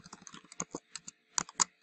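Quick bursts of keyboard typing, a rapid run of key clicks followed by a few louder, separated keystrokes near the end, close and without speech.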